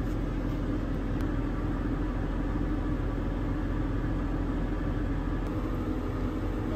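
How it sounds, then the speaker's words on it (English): A combine harvester engine running in a field during evening harvest, a steady low droning rumble that holds constant and even throughout, at a moderate distance, with no talk. "Watching the combine,"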